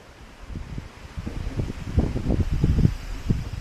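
Wind gusts outdoors on a rainy cycling stage through the Gorges de Galamus, buffeting the microphone with a low rumbling roar that swells and surges in uneven bursts, strongest toward the middle and end.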